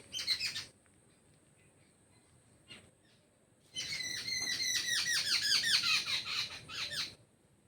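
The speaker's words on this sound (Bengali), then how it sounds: "সকাল সকাল পাখির ডাকগুলো কত সুন্দর লাগে না শুনতে" Morning birds chirp and squeak in quick, bright bursts: a short flurry at first, a lone call, then a long, lively run of rapid chirps nearby.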